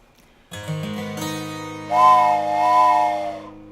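A steady, pure whistle tone sounds close by, swelling louder partway through and holding before cutting off, like a train whistle.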